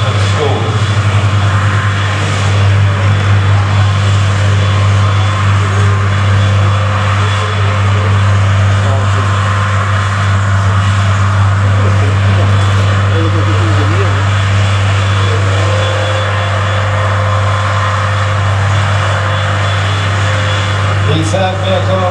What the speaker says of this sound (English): carrier today is commanded by Sergeant McKay and driven by Sergeant McLaughlin